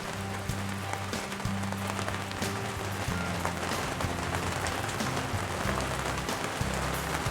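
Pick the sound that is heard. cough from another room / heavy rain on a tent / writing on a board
heavy rain on a tent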